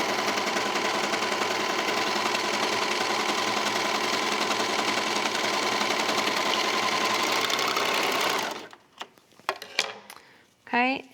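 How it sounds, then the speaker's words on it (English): A sewing machine stitching the short end of a fabric cuff runs steadily and loudly for about eight seconds, then stops, followed by a few handling clicks and rustles. "fold it with right sides together and sew the short end of the cuff"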